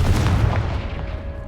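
Confringo blasting spell exploding in Hogwarts Legacy, a loud, low booming blast that rumbles and slowly fades over about a second and a half, with no voices.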